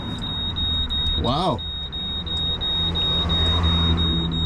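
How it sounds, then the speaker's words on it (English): Steady, loud repeating beep of a truck's low air pressure alarm, a continuous high tone pulsing throughout, over engine rumble at a concrete pour, with a brief exclamation from a man. "low air alarm is just ruining my video right now"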